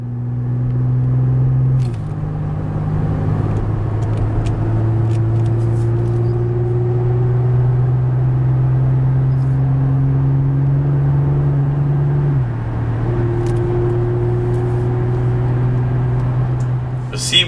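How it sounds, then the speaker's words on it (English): A 2018 Chevy Colorado LT Redline Edition pickup truck accelerates onto a highway, its engine drone climbing in pitch through gear changes with clear shift drops, loud and close from inside the cab, no talk. "It accelerates well onto the highway, as I'll let you listen to here."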